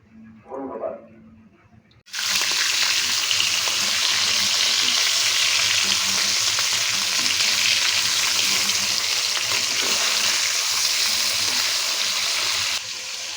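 Fish pieces frying in hot oil, cooked in small batches for a Bengali fish curry, a loud continuous close sizzle that starts abruptly after a brief quiet moment and holds steady throughout.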